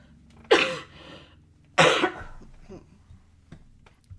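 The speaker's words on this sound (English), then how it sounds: "sorry, I have to cough again" Two sharp, loud coughs ring out about a second apart, followed by quieter breathy throat sounds and small clicks.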